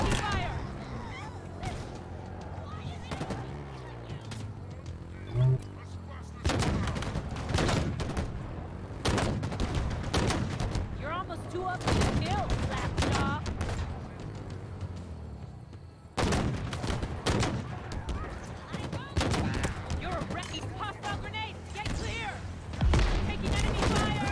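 Gunfire in the video game Halo, with repeated bursts and heavy volleys of shots, loud and dense, recurring in clusters over excited voices of players talking throughout.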